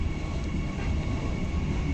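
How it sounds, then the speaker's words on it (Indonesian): The Bengawan passenger train departs Klaten station, a steady low rumble and broadband roar of rolling rail cars and engine noise, continuous and fairly loud with no voices over it. "Kereta api Bengawan diberangkatkan dari stasiun Klaten"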